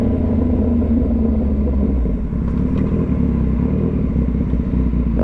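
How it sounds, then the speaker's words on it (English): A motorcycle riding through big-city traffic makes a continuous, loud low engine rumble with slight shifts in pitch, close to the listener, along with general road noise. "I know for a fact if I had a sport bike, it would probably sound a lot better than this."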